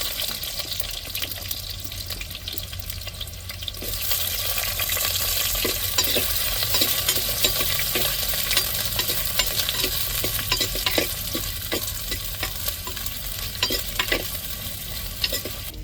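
Curry leaves and onion frying in hot oil for a squid curry, a steady loud sizzle throughout with a brief quieter start, broken by frequent scraping stirring clicks.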